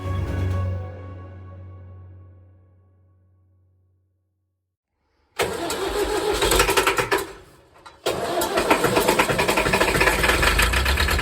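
A tractor engine cranks over and catches, settling into a loud, rough rumble after a brief stumble, following the fading ring of a struck metal sound and a quiet pause.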